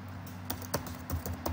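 A computer keyboard is typed on in a short run of a few quick, light keystrokes, close and quiet over a faint steady hum.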